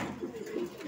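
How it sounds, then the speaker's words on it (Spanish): Domestic pigeons cooing nearby, a continuous low throaty coo filling the short moment with no talk over it. "esos palomos aquí, yo los vuelo un día sí, un día no, porque tengo varios"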